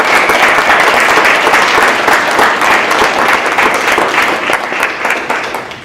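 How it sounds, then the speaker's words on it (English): Audience applause at the close of a design talk at Iowa State University's College of Design, a dense steady wash of many hands clapping that fills the room and fades slightly toward the end. "Quickly, do you know why we clap?"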